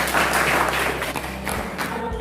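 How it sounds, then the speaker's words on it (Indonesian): Classroom applause during an Indonesian school lesson: students clapping together for about two seconds, dense and fairly loud, with a steady low hum underneath. "Oke, tepuk tangannya."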